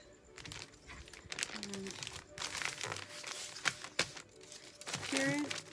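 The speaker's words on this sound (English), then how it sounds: "And then you just easily remove the tape." Packing tape peeled off and wrapped around a package being prepared for shipping, giving crinkly, tearing bursts that come and go over several seconds, with a person talking throughout.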